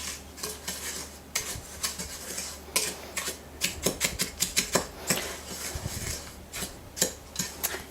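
Cracker crumbs and sugar being stirred together in a bowl, with a utensil scraping and clinking against the sides in an irregular rhythm, close by with no talk.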